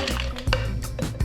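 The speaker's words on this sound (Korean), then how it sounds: "마지막으로 크랜베리 주스 90ml를 넣어줍니다" Cranberry juice pours into a cocktail shaker, a short close-up gurgling splash with a couple of wet bursts.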